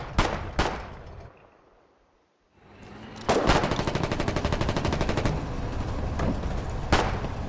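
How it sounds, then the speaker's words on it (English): Tank fire in the online war game Foxhole, with sharp heavy blasts at the start, a brief lull, then dense rapid automatic gunfire rattling continuously with more booming shots mixed in, loud and close. "I'm firing tank."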